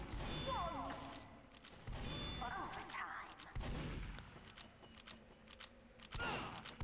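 Team Fortress 2 gunfire comes in several sharp, quiet bursts of shots spaced a second or two apart, with clattering impacts between them and faint game sounds in the background.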